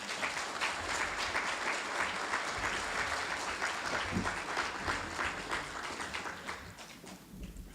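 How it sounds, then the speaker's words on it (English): Sustained applause fills an awards ceremony hall for a fire department, a dense, steady wash of many hands clapping at moderate distance with no voices on top. "a round of applause"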